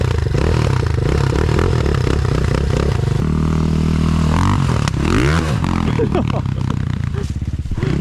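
A pit bike fitted with a big bore 174 engine runs loud and continuous at close range, revving and clattering through a jump and landing, with people talking over the engine noise.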